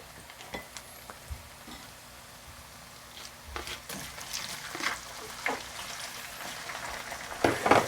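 Shrimp sizzle in garlic-infused oil for gambas, a faint crackling fry with scattered pops and occasional utensil clinks, growing slightly busier toward the end.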